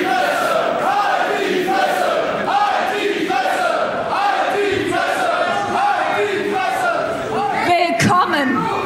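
A wrestling crowd at a full tag-team match roars and chants continuously, a dense wall of voices swelling in waves with shouts rising above, loud and close throughout.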